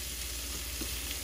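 Sliced portobello mushrooms in a hot pan, a brief, even sizzle with a faint stir, steady and close, no voices.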